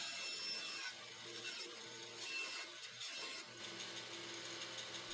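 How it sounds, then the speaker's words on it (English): Bandsaw cutting the bulk off a wood blank before lathe turning, a steady faint buzzing grind that carries on with small shifts in pitch as the blade moves through the wood. "Just remove the bulk with the bandsaw again"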